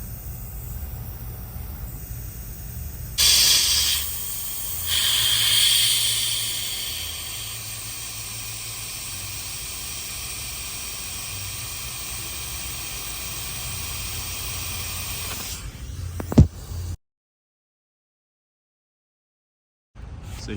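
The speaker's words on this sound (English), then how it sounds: "Remove it and let it drain. Hear that hissing?" Compressed air hisses steadily from a draining air suspension line on a BMW 7 Series G11/G12 at the compressor fitting, loud and close, surging briefly before settling into a long even hiss that ends with a click.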